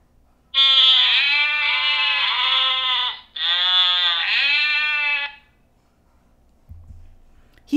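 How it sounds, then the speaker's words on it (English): A sheep bleats at a farm in two long, loud, wavering calls close by, followed by near silence and a faint low rumble at the end. "He saw a mama sheep and her two babies."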